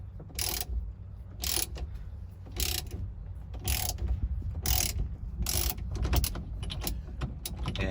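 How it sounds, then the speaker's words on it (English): Ratchet wrench with a 1/2 inch socket tightening the pressure screw of a steering wheel puller on a 1997 Jeep TJ: six or seven short clicking ratchet strokes in an even rhythm, close and distinct over low background hum. "we'll use a 1/2 inch socket to just tighten the pressure screw here and pop the steering wheel off."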